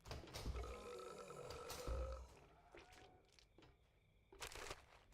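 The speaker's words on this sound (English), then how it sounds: "I heard the burp." A burp, heard by someone playing a video game while out on a minibike, comes through as a low, gurgling belch with rough growling grunts that fade and then return briefly.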